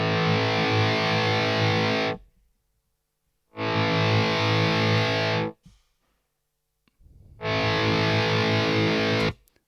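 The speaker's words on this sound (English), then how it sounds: "I'm now able to get some really, really nice controlled volume swells that really, to me, sound much more like an analog volume pedal" Distorted electric guitar played through a volume pedal plug-in, sounding in three loud sustained swells, each cutting off sharply into silence before the next.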